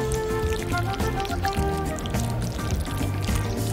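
Water streams steadily through a comb-and-rinse hair device, a continuous close pouring and trickling with music playing underneath.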